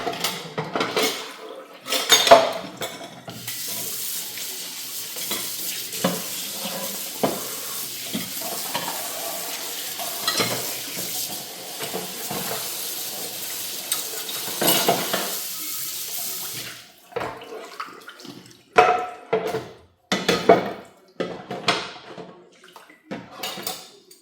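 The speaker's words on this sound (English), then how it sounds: "start frying this fish real quick" Fish frying in a pan while rice and beans are made, a steady sizzle holding for about sixteen seconds before easing, with clatter of utensils and pans breaking through near the start and at the end; no talking.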